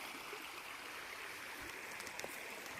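A stream runs beside a hiking trail, its steady broadband rush of flowing water continuous and fairly close throughout, with a few faint splashes near the end.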